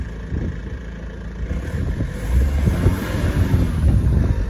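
An Alpina D3 diesel car engine rumbles low and steady, rising slightly as it is revved, with wind buffeting the microphone throughout.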